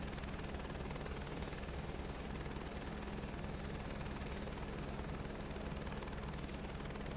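Helicopter engine and rotor in Microsoft Flight Simulator 2024, a steady, loud, dense whine and rumble with a fast rotor chop that holds unchanged throughout.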